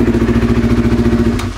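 A motorcycle engine that has sat in long storage idles steadily up close, a loud, even low chug with a regular pulsing beat throughout.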